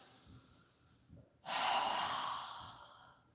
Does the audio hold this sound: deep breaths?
yes